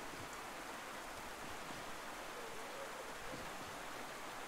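Rain in the video game DayZ hisses as a steady dense wash with no letup and no voices, fairly quiet and even throughout.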